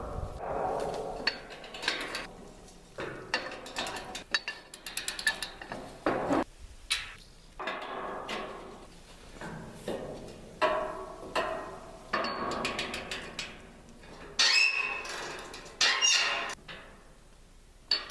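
Wrench and metal clanks echo while bolts are loosened to remove the axles from a sawmill, a run of irregular squeaks, ticks and metallic knocks close by, with no talk.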